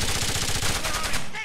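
Rapid bursts of automatic gunfire in a tactical shooter video game, loud and close, firing continuously before cutting off near the end.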